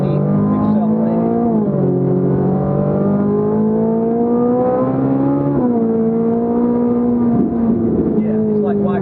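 Ferrari 458 engine pulling hard through the revs with steady rising pitch sweeps, a brief shift dip, then climbing again, loud and continuous from inside the car, with speech underneath.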